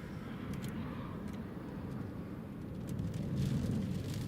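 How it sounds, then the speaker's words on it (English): A Ryanair airliner going around at Newcastle Airport during Storm Eowyn, heard as a distant, low, steady jet roar that swells slightly toward the end over windy background noise. "Yeah, Ryanair's going around."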